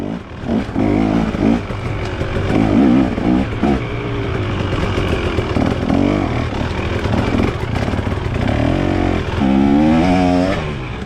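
Two-stroke 300cc dirt bikes, a TM, KTM XC and XCW and a Beta RR, ride a recreational trail with steady buzzing engine drone and rising revs as they accelerate, loud and close throughout.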